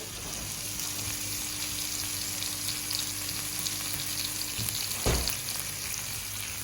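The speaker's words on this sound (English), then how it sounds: "we just want to add just a little salt to our onions and peppers, etc. Just allow that to saute a bit." Onions and peppers sauté with a little salt in a pan for Jamaican ackee and saltfish, giving a steady close sizzle throughout with a single sharper clatter near the end.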